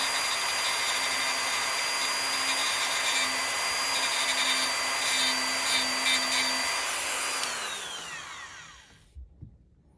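Power tool sanding small model flux band bars for a 1:8 scale DeLorean, a steady high-pitched motor whir with grinding noise that winds down to silence at the end, with no talk.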